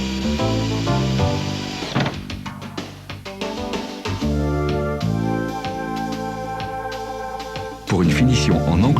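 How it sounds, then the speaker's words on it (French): A stationary saw cuts siding panels in a double mitre, whining in loud repeated bursts under a speaking voice. "Vous pouvez par exemple scier les sidings en double onglet à l'aide d'une scie stationnaire"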